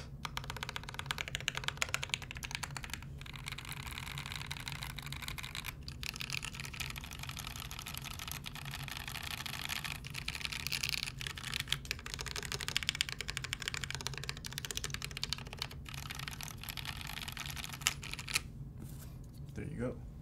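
Rapid, steady clacky typing on a rose gold custom mechanical keyboard fitted with PBT keycaps, close and continuous, with many sharp key strikes, brief pauses between bursts and faint talk in the background.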